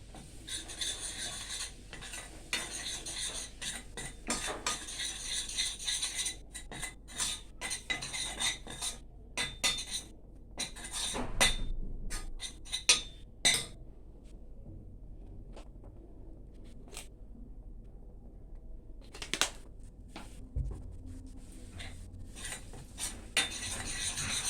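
A spoon scrapes and clinks against a pot while flour is stirred into melted butter for a sweet béchamel. The taps and scrapes come close and irregular, with quiet gaps between bursts.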